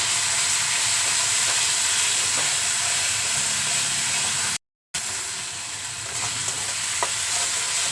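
Spices such as cumin, coriander and Kashmiri chilli powder sizzle loudly in a hot pan while frying, a continuous bright hiss with stirring scrapes, cut by a brief silent gap partway through.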